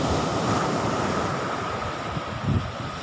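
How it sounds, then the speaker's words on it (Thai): Strong sea waves roll and crash on Nong Bua Beach in Thailand as wind buffets the microphone, a steady loud wash of surf and gusts with no voices. "สังเกตว่าคลื่นลมค่อนข้างจะแรงยังแรงอยู่นะครับ"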